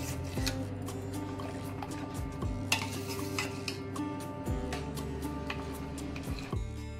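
Jaggery being stirred into a mixture in a pot for homemade kulfi: repeated scraping stir strokes against the pot over a bubbling, sizzling background, close and steady, with a faint voice in the background.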